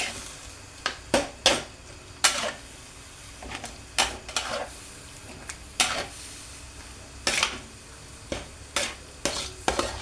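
A spoon stirs beef with peppers and pickled bamboo shoots in a pot, giving a series of sharp scraping and clinking strokes at an uneven rhythm over a faint simmering background, close by and without speech.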